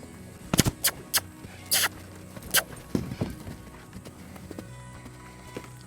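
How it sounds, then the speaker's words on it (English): A horse's hooves thud and clop in an uneven cantering rhythm during saddle training, moderately close with quieter stretches between the footfalls. "I'm kind of got to really chase him to get him to canter."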